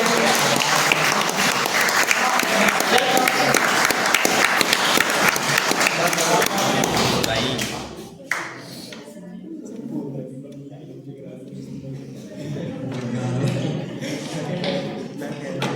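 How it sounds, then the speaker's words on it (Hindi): Applause from a school farewell audience of students and staff, a loud dense roar for about seven seconds that then drops away into quieter room noise and scattered sounds. "तालियों की गड़गड़ाहट बता रही है"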